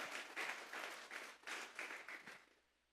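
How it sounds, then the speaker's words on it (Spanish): A church congregation at a Sunday service claps together in a brief burst of applause, the hand claps dense and rhythmic before fading out. "Vamos a regalarle ofrenda de palmas al Dios de la gloria."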